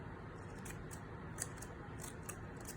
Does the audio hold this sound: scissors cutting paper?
yes